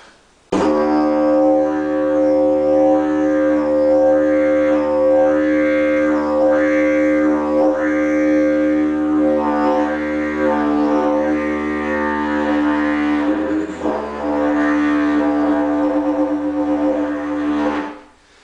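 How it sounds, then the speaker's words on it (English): A deep, continuous didgeridoo drone with a low fundamental and rich overtones, its upper tones warbling rhythmically as the player shapes the sound, played alone. "And when you play the didgeridoo, that sounds something like this."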